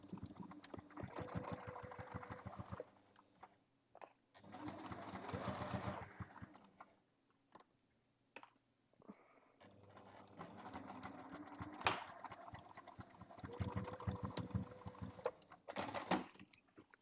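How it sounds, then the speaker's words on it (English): A sewing machine runs quarter-inch seams to close the sides of a bag lining in close, rapid bursts of stitching. Short pauses separate the bursts and carry small handling clicks. "Now we sew the sides of the lining closed."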